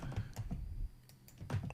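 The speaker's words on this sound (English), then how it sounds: "I'm just typing in numbers" A few quiet, close keystrokes on a computer keyboard as numbers are entered into a report, soft irregular taps with short pauses between them and no talking.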